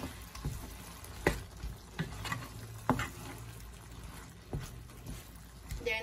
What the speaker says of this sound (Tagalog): I-mix na natin ng mabuti.